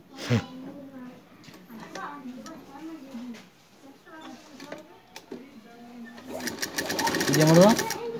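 A tailor's sewing machine runs in bursts while stitching a shoulder seam, its rapid mechanical whir rising loudly near the end, with a person talking over much of it.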